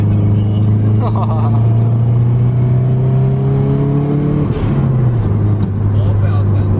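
A Subaru WRX GC8 engine accelerating at full throttle, its loud droning note climbing steadily in pitch before a sudden drop at a gear change, heard from inside the car with brief talk.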